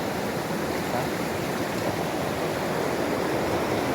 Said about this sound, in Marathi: हे बघा एवढा पाणी तुंबलेला.